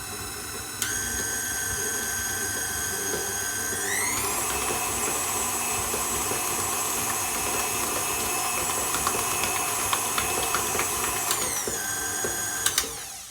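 KitchenAid stand mixer with the paddle beating cake batter, a sustained high motor whine that steps up in speed early and drops back near the end, close and continuous with no talking.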